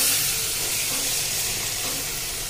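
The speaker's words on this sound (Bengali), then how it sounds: "এখন আমি দিয়ে দেব জল" Water poured into hot oil and fried spices for a Bengali doi katla fish curry, giving a loud, steady hissing sizzle that stays strong from start to finish with no talk.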